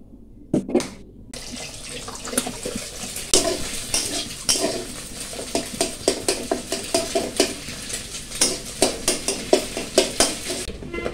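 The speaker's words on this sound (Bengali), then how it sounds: "বাসি ভাতগুলো ছিল, সেগুলো আজকে আমি ভেজে খাবো" Leftover rice is fried with cumin in a pan, with a steady sizzle under repeated scraping and stirring strokes of a spatula, close and fairly loud, and a few sharp clinks near the start.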